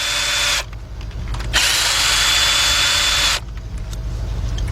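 A power drill spins out ignition coil bracket bolts on a Hyundai XG350, Santa Fe or Kia Amanti engine, giving loud, steady whirring bursts separated by short pauses, up close with no talking.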